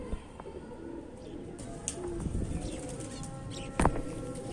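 Pigeons cooing softly at close range, with scattered chirps and a brief burst of wing flapping near the end over low background noise.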